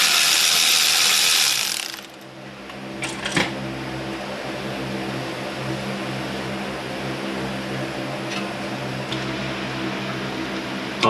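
A 10 mm ratchet clicks briefly while a hand works loose the front ABS sensor on a 2014 Nissan Pathfinder, close metallic ticks after a burst of hiss, then a low steady hum with occasional knocks.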